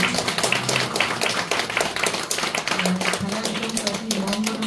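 Audience applause following an Advent lecture by a Catholic priest, a steady patter of many hands clapping with a voice speaking over it.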